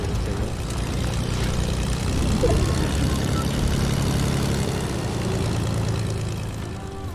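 A propeller airplane engine drones steadily in the video game Fortnite, a continuous low hum that holds at a fairly even loudness throughout before easing off slightly at the end.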